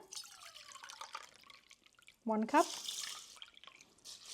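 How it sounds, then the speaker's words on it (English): Cold water poured over rinsed rice in a pot before cooking, a brief burst of splashing and trickling that rises suddenly midway, with a voice talking before and during the pour. "Now adding in cold water."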